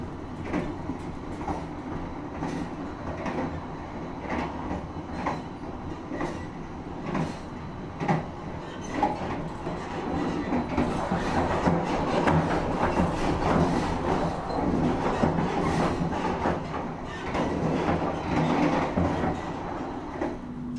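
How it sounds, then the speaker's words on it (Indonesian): A passenger train, the Gajah Wong, rolls through Cikampek station in Indonesia, a steady rumble with rhythmic clacking of wheels over rail joints, loud and close throughout. "Sekarang kereta Gajah Wong melintas di stasiun Cikampek"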